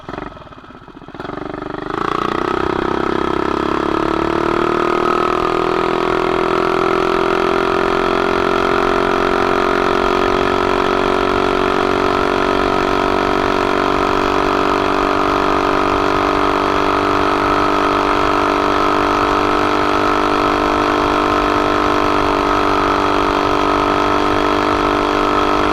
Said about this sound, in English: I want to know what RPMs I'm turning when I do my top speed run